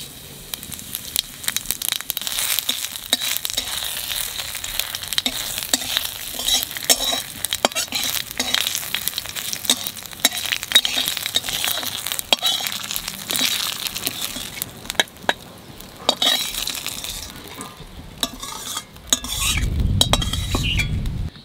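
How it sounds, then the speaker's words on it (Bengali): Cumin seeds fry in hot oil in a home kitchen while a metal spoon stirs and scrapes the pan, a steady sizzle with frequent clinks, and a louder low rumble near the end. "এই তেলের মধ্যে অল্প করে জিরে ভাজে উঠে রাখবো"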